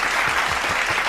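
A short, dense burst of applause on a sports talk show, loud and steady for just over a second with no talking over it.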